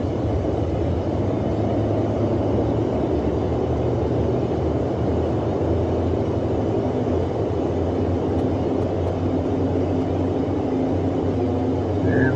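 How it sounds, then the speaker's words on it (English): Boeing 247D in MSFS 2020 at full takeoff power, its twin radial engines producing a steady, loud, dense roar that holds constant throughout with no pauses. "Go all the way back to the chest and give it the power, and this thing will just fly off the runway on its own."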